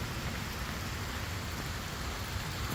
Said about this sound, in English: A rainy, rainy, rainy, rainy, rainy day, isn't it?